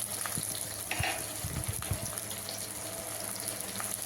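Two roughly chopped onions frying in two tablespoons of oil in a kadai, a steady low sizzle with occasional stirring clinks and scrapes, close and moderately quiet, no talking.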